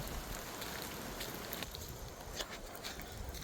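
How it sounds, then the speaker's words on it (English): Steady rain from Hurricane Milton patters on surfaces all around, a dense even hiss with occasional louder drips, and no voices. "It's raining more now."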